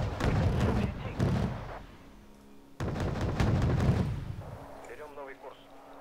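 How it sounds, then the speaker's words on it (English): Naval ships in Wargame: Red Dragon firing missiles together, two heavy booming salvos with rumbling tails separated by a brief lull, with voices talking over them. "And we're just gonna fire all at the same time."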